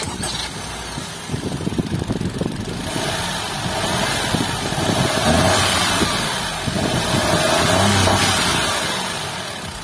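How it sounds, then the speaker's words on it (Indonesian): A Honda N-Box's 660 cc turbocharged three-cylinder engine cranks and fires up, then settles into a steady, throbbing idle with slight revving, close by and continuous. "Kita pengen denger dulu suara mesinnya kayak apa sih, 660 cc turbocharged"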